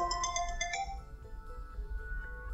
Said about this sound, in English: whenever the tank gets low, I'll get an automated phone call alert